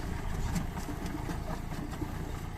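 A John Deere 5075E three-cylinder, 75-horsepower tractor idles close by with a steady, even diesel rumble that holds unbroken throughout.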